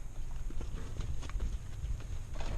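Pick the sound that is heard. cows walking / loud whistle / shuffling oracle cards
cows walking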